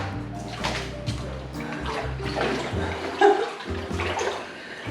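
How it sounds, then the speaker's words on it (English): Water running from a tap into a mini jacuzzi in a luxury hotel room in El Nido, a steady gushing and splashing stream filling the tub, heard close with small sloshing variations. "this room actually has a mini jacuzzi. And we're having the water turned on now"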